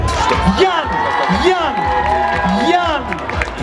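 A lively crowd at a dance flash mob claps and cheers with whoops and shouts, while an amplified voice speaks in Russian over the noise in bursts.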